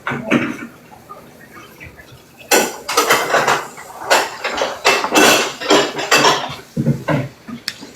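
Dishes and a pot lid clatter and clank during washing, with irregular bursts of loud metallic knocks and scraping close by, a few quieter moments between them.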